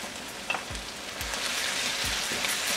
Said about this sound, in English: Now at this point, I'll add my ginger and garlic paste.